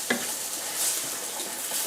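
Eggplant sizzles and fries steadily in a hot pan on the stove, with a brief stirring clatter near the start and a constant crackling hiss that carries through to the end, no voices present.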